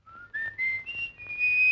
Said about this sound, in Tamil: என்னது விசில் சத்தம்?